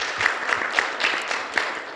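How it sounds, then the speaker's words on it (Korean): Audience applause at a forum on green technology and renewable energy, a short burst of steady clapping with a few louder individual claps standing out, moderately close. "다음은 박수 부탁드리겠습니다."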